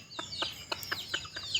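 Soft, quick clucks from chickens, a string of short, evenly spaced calls with faint chirpy notes, fairly close and fairly quiet.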